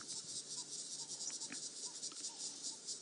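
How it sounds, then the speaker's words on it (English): A cricket chirps continuously in a fast, high trill on a safari drive in the afternoon, steady and fairly close, with faint background noise and no talking. "You hear the cricket starting to go now."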